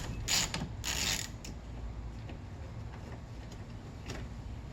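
Short ratchet turning an 8mm bolt on a Mercedes SEC headlight washer wiper, giving a few quick clicking and creaking bursts early on, then quieter mechanical ticks over a low background hum.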